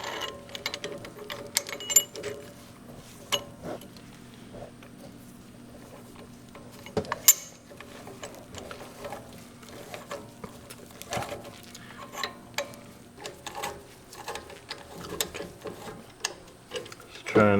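Caliper piston tool being cranked into a 2019 Honda Pilot brake caliper, quiet ratcheting clicks and scrapes at an irregular pace, close but faint, with low background sounds.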